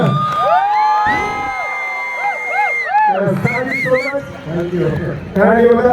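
A crowd at a celebration cheers, whoops and shouts loudly, with children's voices mixed in; bursts of excited yelling rise and fall across the span, clapping not clearly distinct.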